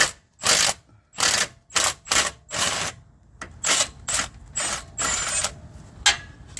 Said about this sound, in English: I'll get that bottom bolt off, and then I'll go from there